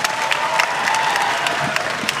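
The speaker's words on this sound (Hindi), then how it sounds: "बहुत बढ़िया, जोरदार तालियां।" An audience gives loud, steady applause at a public event at the Ratnavali festival in Kurukshetra featuring a Bollywood actor, with dense continuous clapping throughout.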